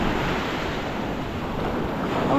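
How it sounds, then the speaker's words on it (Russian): A cool breeze blows steadily on a beach in Odessa, a constant broadband rush with surf washing in the background, loud and close with no voices. "Нет, ветерочек такой прохладненький."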